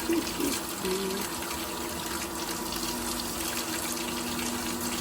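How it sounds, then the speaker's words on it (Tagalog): Steady rush of well water gushing from a pipe fed by a Jetmatic hand pump, continuous and fairly loud, with a faint hum in the background. "Ayan na guys, may tubig na kami."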